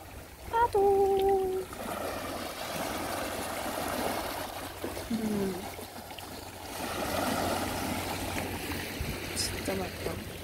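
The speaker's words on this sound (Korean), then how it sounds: "파도." Ocean waves wash onto the beach along the Jongdal-ri coast, a soft, continuous rushing surf with gentle swells, while people talk briefly nearby.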